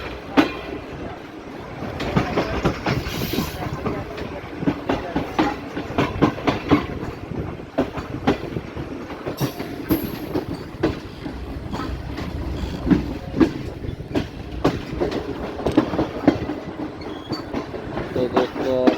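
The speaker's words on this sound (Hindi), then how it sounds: "तो दोस्तों ट्रेन साहिवाल रेलवे स्टेशन के प्लेटफॉर्म पर आ चुकी है।" A passenger train pulls into the platform at Sahiwal railway station, its wheels clattering in a steady clickety-clack with occasional squeals close by, while faint voices murmur in the background.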